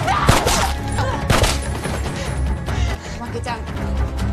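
Gunfire in an action film scene of a warehouse siege by terrorists, with covering fire during an escape: loud, dense bursts of shots and thuds mixed with music and effects, heard alone without clear talk.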